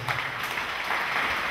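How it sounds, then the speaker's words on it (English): A church congregation claps together in a brief, dense wash of applause that holds at an even level, with no speech over it. "Clap for Master Jesus."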